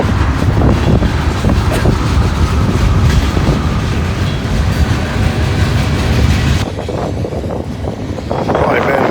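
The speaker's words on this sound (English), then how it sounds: "We got a mixed manifest here." A long mixed manifest freight train rolls past near the tracks on a windy day, a loud steady rumble with rhythmic wheel clatter and heavy wind buffeting the microphone, easing slightly toward the end.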